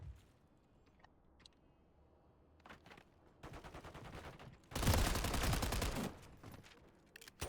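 MTZ-556 rifle firing in a video game, scattered single shots giving way to rapid automatic bursts, the loudest sustained burst in the middle, heard fairly close with little else around it.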